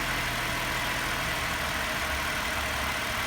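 A car engine idles steadily after its fuel injectors were replaced, with a constant low rumble and even hum, close by and with no voices.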